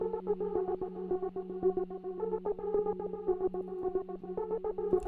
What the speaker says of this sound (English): I played this other sound around the side, just the Poly 6.